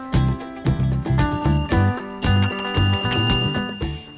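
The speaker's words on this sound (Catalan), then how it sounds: "La Laura sempre deixa la campaneta en un racó de la seva habitació" A little bell rings over and over in quick, bright dings, loud and close, each strike ringing on briefly before the next in an uneven rhythm, with no talk.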